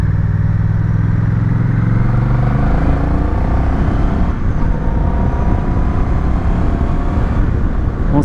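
A Honda Rebel 1100 motorcycle engine pulls hard under acceleration, a loud, close, steady roar that rises in pitch through the revs with wind rush and no talking.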